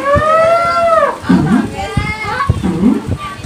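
A storyteller imitates an elephant with a long, wavering trumpet-like vocal call, followed by lower rhythmic voiced sounds from a group of children, close and loud.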